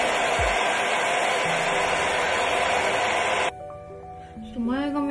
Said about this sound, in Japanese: 弱い風で右からと左からめっちゃ風当てます